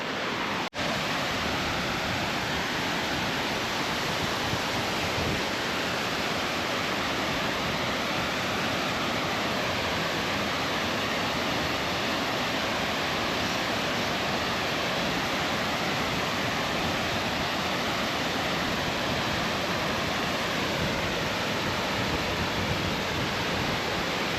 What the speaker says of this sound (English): It's one of those cool cascading waterfalls.